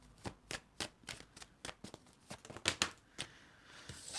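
Tarot cards being shuffled and drawn, a quiet series of about a dozen crisp, riffling flicks and slaps at an irregular pace, close and soft with no voices.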